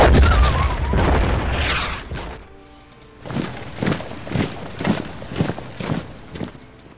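Artillery bombardment in the World War I strategy game Commander: The Great War. A heavy rumbling boom opens the clip, followed by a series of separate, punchy detonations at a fairly regular pace.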